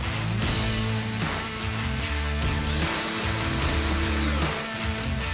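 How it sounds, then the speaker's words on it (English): A power drill bores screw holes for speakers in an audio install, a loud, continuous close-up whine that dips briefly between bursts. "we simply pre-drilled the holes using the speaker for a template"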